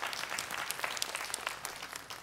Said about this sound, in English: You can clap. Go ahead.